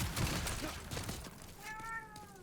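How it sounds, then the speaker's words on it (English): A pet cat cries with one drawn-out, rising-and-falling meow, fairly close, after a stretch of muffled background game noise. "I am so sorry that my cat is crying."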